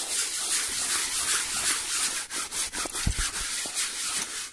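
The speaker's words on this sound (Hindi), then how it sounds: "अभी जल्दी से इसके ऊपर सरफ गिरते हैं और ब्रश से रगड़ते हैं" A brush scrubs a bag coated in detergent inside a basin, steady back-and-forth rubbing strokes close up and continuous, with a couple of louder knocks near the end and no talk.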